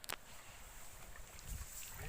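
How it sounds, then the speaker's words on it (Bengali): A small boat glides across the water of a duck farm pond. A soft, breathy wash and wind-like hiss carry on steadily, with a sharp knock at the start and faint voices underneath. "এই যে এখন আমরা নৌকায় ঘুরতেছি"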